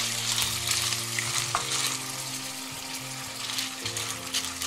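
Clams tossed into golden garlic in a frying pan for spaghetti vongole, a strong close sizzle with stirring scrapes and a wet, bubbling hiss, steady throughout with no voices.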